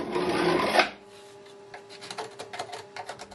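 A short burst of scraping as a crack where a window meets the wall is raked out, followed by lighter irregular scratching strokes, close and alone.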